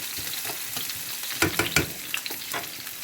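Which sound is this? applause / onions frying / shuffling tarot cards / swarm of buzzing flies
onions frying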